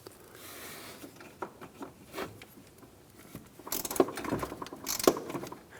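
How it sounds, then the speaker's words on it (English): A ratchet and 10mm socket back out a bolt on the frame rail of a 2014-2019 Toyota Highlander, giving quiet, close clicking strokes in short bursts that grow busier toward the end. "Using a 10mm socket, remove the bolt on the side of the frame rail."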